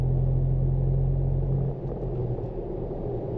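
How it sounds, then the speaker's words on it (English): The four-cylinder engine of a Toyota 4Runner TRD Pro drones steadily inside the cabin, a loud low rumble that drops slightly partway through and then holds at a lower hum. "The thing killing me is that 4-cylinder sound."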